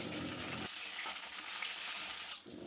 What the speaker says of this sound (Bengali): এবার এর মধ্যে কেটে রাখা উচ্ছেটা দিয়ে হালকা করে ভেজে নেব।